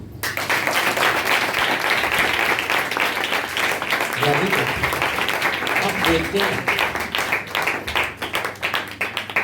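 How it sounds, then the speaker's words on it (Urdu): A church congregation claps along during a sermon, with steady rhythmic clapping filling the room under a loud voice speaking over it and low background hum. "تالیاں بجاؤ۔"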